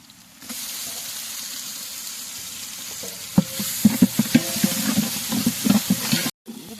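Ginger garlic paste sautéing in a pan of oil for duck curry biryani, a steady sizzle with stirring scrapes and clacks growing busier toward the end, then a brief cut.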